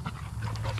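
Dogs panting close by in quick, steady breaths that run without a break through a short moment, with no talking.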